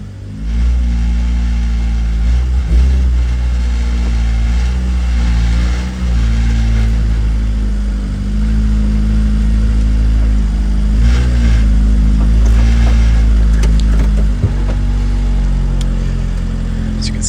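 Engine of a 2006 Lotus Elise racecar after a cold start following a week of sitting, loud and close, idling with a rough throb and several blips of revving, no voices.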